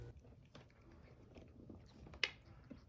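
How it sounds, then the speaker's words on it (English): A cat chews broken-up pieces of a treat with soft, faint, close crunching and biting sounds and one sharper click partway through, in a quiet room. "she was still having trouble chewing the pieces"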